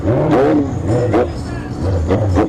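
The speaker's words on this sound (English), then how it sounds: "Started revving up a little bit." A motorcycle engine revs in short bursts, rising and falling three or four times close by, with a voice briefly audible between the revs.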